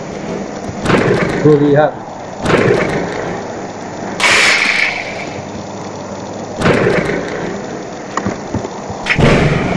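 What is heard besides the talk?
lightning and thunder striking a house in a video game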